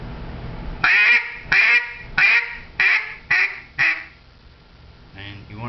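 A handheld duck call gives six loud, evenly spaced quacks, each clipped off cleanly before the next, followed by a faint, shorter call at the end.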